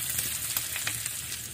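Onion hits hot rendered pork fat in a pan over an open fire in a village setting, giving a close, steady, hissing sizzle with crackling spits throughout, no voices.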